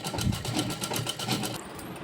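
A sewing machine top-stitches lace onto an Anarkali frock, running in a quick, even rhythmic whir of needle strokes that stops just before the end, fairly quiet and alone.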